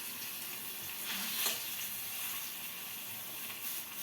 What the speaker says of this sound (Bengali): দেখো এখানে পটলটা ভাজতে দিয়েছি